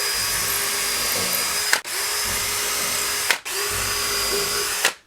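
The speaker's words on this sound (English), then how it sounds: "So I'm going to do a pilot hole with a 7/64." A power drill whirs steadily at close range drilling a 7/64-inch pilot hole, stopping briefly twice before spinning up again, with no voices.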